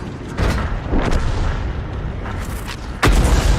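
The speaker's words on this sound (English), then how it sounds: "Now it's a 15 centimeter howitzer" The 15 cm howitzer of the GW Panther self-propelled gun firing in a tank game: a loud, heavy boom that stands out against continuous rumbling battle noise, with another booming surge around the middle.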